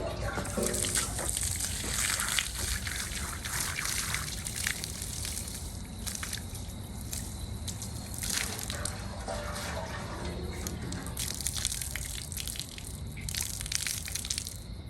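Water gushing and draining out of a custom stainless steel water tank for a Lexus camper, a steady loud rush with crackling splashes running throughout, with people talking over it at times.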